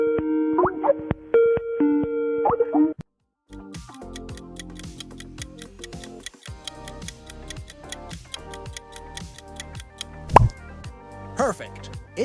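The Skype logo sound plays: a few clean, bright electronic tones lasting about three seconds. After a brief gap, a steady clock-like ticking follows with occasional plopping accents.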